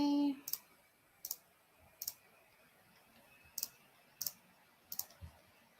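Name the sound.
computer mouse clicking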